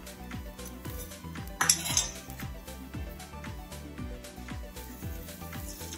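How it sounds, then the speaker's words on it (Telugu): A metal pot set down on a stove with a sharp clink amid steady kitchen clatter of utensils, one louder burst early on, no talk. "మళ్ళీ పొయ్యి మీద గిన్నె పెట్టుకున్నా."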